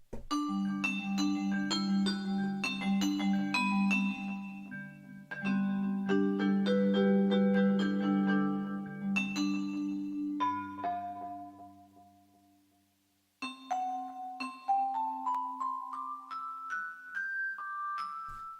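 Bright mallet notes from a mallet percussion virtual instrument ring out in quick, bell-like runs over sustained low chords, ending with a rising sequence of clear, resonant tones.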